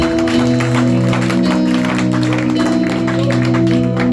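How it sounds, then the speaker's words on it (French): Church congregation clapping and cheering in praise during a lively worship service, steady applause and crowd noise over sustained music, loud and continuous throughout. "Acclame le Seigneur. Acclame pour ses faveurs."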